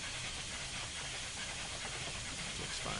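A steady, loud hiss of escaping steam comes from a Union Pacific FEF-3 844 steam locomotive in Train Simulator 2015, with a low engine rumble beneath it throughout.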